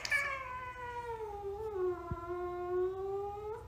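A house cat gives one long drawn-out meow, a loud wavering yowl that falls in pitch, then rises again at the end, close and alone.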